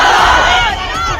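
A dense, loud protest crowd chants a Jai Bhim slogan in unison, the massed voices close and overlapping in one brief shout.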